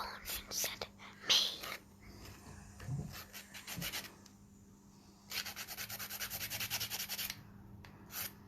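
Light, rapid filing strokes sharpen a sculpted stiletto acrylic nail tip, coming in short bursts with pauses and then a long steady run of quick rasping scrapes, close and soft.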